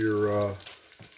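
Broccoli and cheddar soup cooks in a porcelain pot, giving a brief soft sizzle and bubbling that fades quickly, with a low hum at the start.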